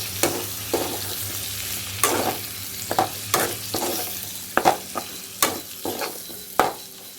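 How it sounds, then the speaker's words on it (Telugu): Chopped tomato pieces are stirred into a prawn and egg gravy frying in oil, with a steady sizzle broken by repeated spoon scrapes and clatters. "ఇప్పుడు మనం కట్ చేసి పెట్టుకున్న టొమాటో ముక్కల్ని వేసుకుందామండి. వేసేసి కలిపేద్దాం."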